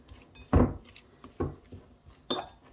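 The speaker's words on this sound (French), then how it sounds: "Je vais mélanger tout ça." Potatoes mixed with salt, pepper and olive oil in a dish, heard as four separate clinks and scrapes of a utensil against the bowl, close and clear with pauses between.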